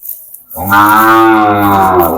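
A loud, close Sahiwal bull calf moo, a long low drawn-out bellow that starts after a brief quiet moment and fills the rest of the clip.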